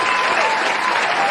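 Dense audience applause fills a poetry recital hall after an Urdu nazm by Imran Pratapgarhi, a steady broadband wash of many hands clapping at once, fairly loud and continuous with faint crowd murmur beneath.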